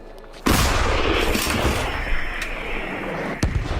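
Artillery shell fired in a military engagement, one loud close boom at the start followed by a long rumbling roar that slowly fades, with a sharp crack near the end.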